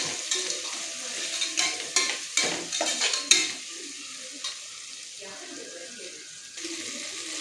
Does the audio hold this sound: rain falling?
no